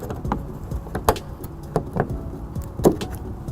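Plastic push fastener being worked loose and pulled from the body of a 2016 Kia Soul, giving a few sharp plastic clicks and scrapes over a low background rumble, close by.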